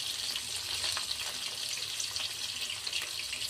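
Vegetables sizzling steadily in a pan over a low gas flame, with soft scraping as they are stirred; a continuous near hiss with no talking.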